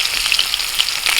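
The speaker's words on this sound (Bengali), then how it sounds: "আলুগুলোকে একটু লাল লাল করে ভেজে তুলে নিচ্ছি" Potato pieces fry in hot mustard oil in a kadai, producing a loud, close, continuous hissing sizzle with fine crackling.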